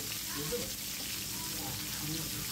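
Fish fries in hot oil, giving a soft, steady sizzle with light spattering crackles, fairly faint and continuous.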